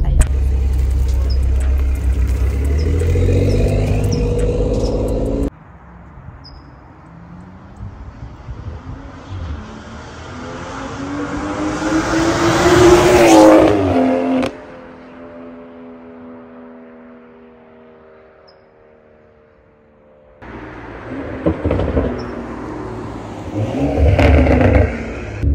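A BMW M240i fitted with a downpipe exhaust passes by, its engine note rising as it approaches, peaking loudly up close, then fading with a lingering tone before another car noise returns at the end.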